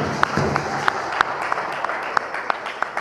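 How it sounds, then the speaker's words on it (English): Applause from the audience at a Ho-Chunk dance show in Wisconsin Dells: scattered, moderately loud hand claps with a few sharp, distinct claps standing out, lasting about three seconds. "So give yourselves a round of applause."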